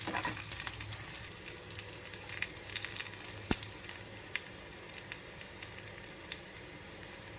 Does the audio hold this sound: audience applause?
no